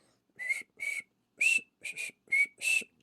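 Someone whistles a short tune in six clear, separate phrases with brief pauses between them, close and alone.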